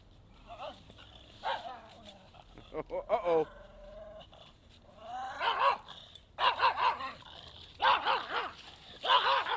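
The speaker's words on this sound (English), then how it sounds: "It's a dog fight." A German wirehaired pointer and a pug fighting at close range, with bursts of sharp barks, yips and whimpering yelps that come in clusters and grow more frantic toward the end.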